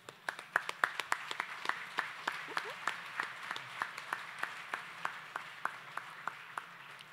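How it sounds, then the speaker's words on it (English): Applause for the chefs and kitchen staff at an engineering excellence gala dinner: a moderate crowd of sparse, distinct hand claps keeping a steady, slightly uneven rhythm throughout, fairly close and without talk. "they deserve a round of applause"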